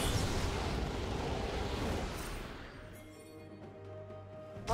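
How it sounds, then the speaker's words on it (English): A turret blows up in League of Legends, a loud rumbling explosion that roars at first and then slowly fades into a low lingering hum, with a small thump at the very end. "Red team's turret has been destroyed."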